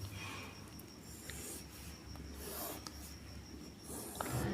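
Steady, quiet scratching of writing on a board during a maths lesson, with faint rubbing strokes and small taps running continuously, no voice over it.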